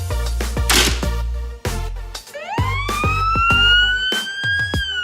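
A toy ambulance siren wails with rising electronic tones over rhythmic clicking and clattering, fairly loud and close, with no voices.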